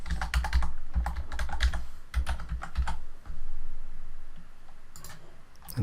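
Password keys tapped out on a computer keyboard in quick irregular bursts of clicks, close and clear, with short pauses between runs of typing and no talking.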